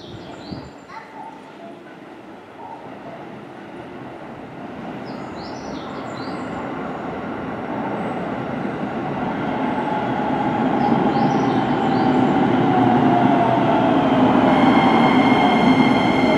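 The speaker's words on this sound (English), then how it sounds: "with 8 cars bound for Haneda Airport will be arriving soon on track number 1" An 8-car commuter train bound for Haneda Airport pulls into a station platform, its rumble and wheel noise building steadily louder and nearer, with a brief chime near the end and no talk over it.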